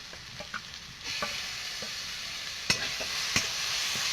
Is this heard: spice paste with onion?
yes